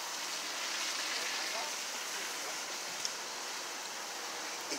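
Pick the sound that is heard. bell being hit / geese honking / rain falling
rain falling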